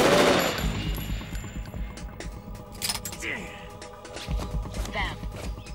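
Gunfire in the video game Metal Gear Solid 2, rapid bursts of shots with clattering impacts mixed under game sound effects and voices talking.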